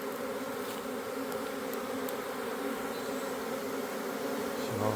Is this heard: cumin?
no